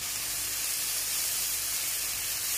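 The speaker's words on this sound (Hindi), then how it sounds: "थोड़ा सा हम इसको भूनेंगे" Onion, ginger and garlic fry in sesame oil in a hot pan, giving off a steady, even sizzling hiss that stays constant throughout with no talking over it.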